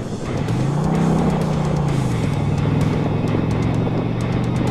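An Indian Challenger Dark Horse motorcycle engine hums steadily under way, rising briefly in pitch and then settling, heard close over a constant rush of road and wind noise.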